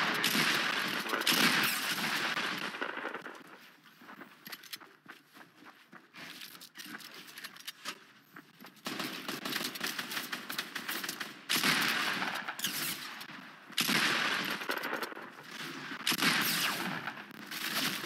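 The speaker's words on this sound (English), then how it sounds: "he just shot the rocket through my walls" Gunfire and rocket shots in a video game crackle in dense, rapid bursts with short pauses between them. The sound is moderately loud and comes with occasional speech.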